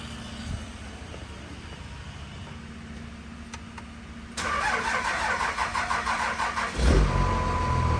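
A drag race truck engine cranks after a stretch of low background hum, then catches and roars to life, settling into a loud, rough, rumbling idle with a brief rev.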